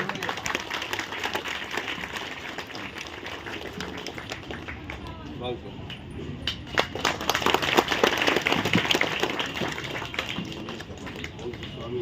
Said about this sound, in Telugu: చిరు సత్కారం చేస్తున్నాం చప్పట్లతో